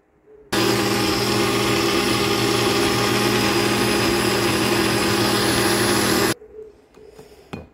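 A small kitchen blender grinds Ritz crackers in one loud, steady, continuous whir lasting about six seconds, then cuts off abruptly, followed by faint handling noises.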